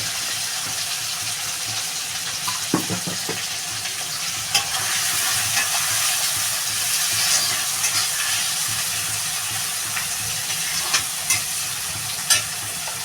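Tomato and onion with a little salt sauté in a pan for a lentil dal, giving a steady sizzle with occasional scraping stirs and light clicks, close and continuous, with no talking.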